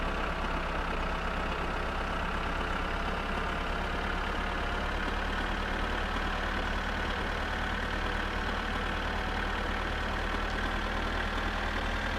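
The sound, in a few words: tractor engine towing a van in My Summer Car video game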